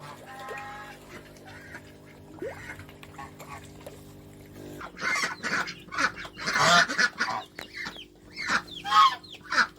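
Ducks and geese honk and quack inside a farm enclosure, starting sparse and faint, then growing into loud, overlapping bursts of calls in the second half.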